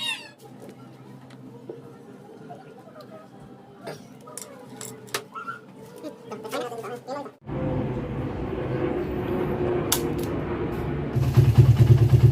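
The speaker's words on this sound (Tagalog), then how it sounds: "So eto at binuksan na natin ang ating motor" Faint clucks and clatter come first, then a carbureted Suzuki Raider 150 motorcycle engine starts after an ignition coil replacement and settles into a loud, steady idle close by.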